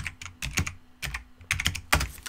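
Rapid bursts of clicking keystrokes on a computer keyboard while code is typed, arriving in short irregular clusters with brief pauses between them, close and clear, with no voices.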